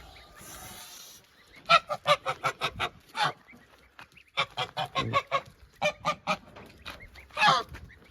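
A mother goose honks repeatedly in rapid bursts, loud and close, with short pauses between runs of harsh calls.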